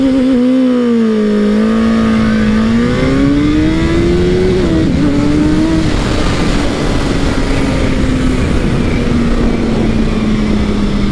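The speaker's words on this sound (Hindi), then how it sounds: "इसको दबा के रखेंगे और ये अब 8000 पे रोक के रखेगा।" A 2021 Suzuki Hayabusa revving against its 8000 rpm launch-control limit, a loud close engine whine that climbs, wavers and then holds a steady high drone, with no voices.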